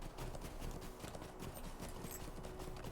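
A horse's hooves clip-clop steadily while riding in the video game The Lord of the Rings Online, a continuous rhythmic trot, soft and fairly faint.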